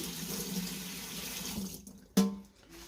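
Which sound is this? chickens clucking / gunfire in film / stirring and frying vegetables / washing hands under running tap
washing hands under running tap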